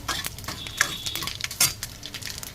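Vegetables fry in a pan while a utensil stirs them, making brisk scraping clatter over a constant close sizzle.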